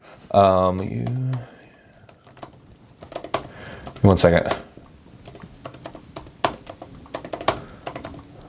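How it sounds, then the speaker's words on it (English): Rapid clicking of computer keys typed in quick bursts, close by, with a few brief spoken words at the start and midway. "That's what I'm typing in right here."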